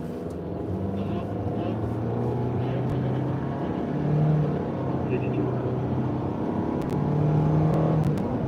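A car engine drones steadily and loud, rising in brief revs as it is driven through wheelies, with voices talking over it.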